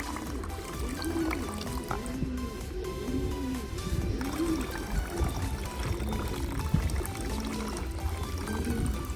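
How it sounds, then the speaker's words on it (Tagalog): Water pours steadily into an animal drinker, a continuous splashing trickle, while birds coo and chirp close by throughout. "ipakita natin sa kanila na ibubuhos natin yung tubig or yung painom sa kanila"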